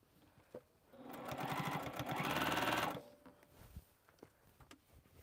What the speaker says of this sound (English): I have to sew the other side.